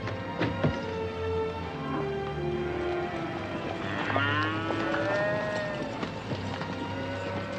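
Cattle in a herd low and moo in overlapping, drawn-out calls, some close and some farther off, over a low outdoor rumble.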